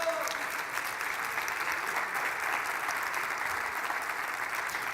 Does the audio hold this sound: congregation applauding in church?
yes